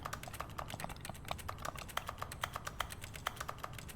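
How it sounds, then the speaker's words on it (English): Computer keyboard keystrokes in The Stanley Parable, a quick irregular run of crisp clicks heard close and fairly quiet, with no voices over them. "it like makes a keyboard sound when I press X"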